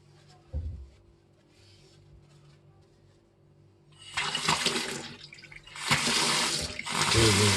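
Water runs from a faucet on an Artema Punto mixer tap after the valve is opened, a steady rushing stream that starts loud partway through and keeps flowing with surges.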